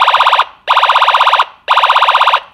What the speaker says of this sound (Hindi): तो सायरन है जो चेंज हो गया है।